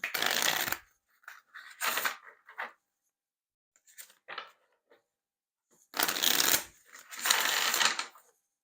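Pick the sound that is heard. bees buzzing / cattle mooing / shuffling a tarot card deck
shuffling a tarot card deck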